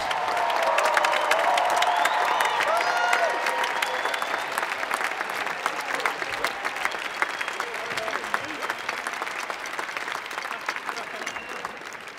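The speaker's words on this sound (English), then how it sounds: "Please join me in one more round of applause for our graduates" Sustained applause from a large commencement audience honoring graduates at a winter ceremony, dense and loud at first, then gradually thinning while the steady clapping carries on through the hall.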